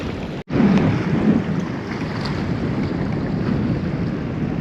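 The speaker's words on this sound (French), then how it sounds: "il y a énormément de vent souvent" Strong wind buffets the microphone in a constant rough rumble, with a brief dropout near the start and no talking. Recorded on a sailboat at Barbuda.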